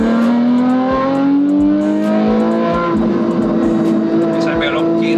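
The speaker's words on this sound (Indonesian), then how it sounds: "Nah, kita gigi dua, kita ke full kickdown." A 2012 Porsche Carrera S accelerates hard at full kickdown in second gear, its engine note climbing steadily and loudly from inside the car, with a person talking over it.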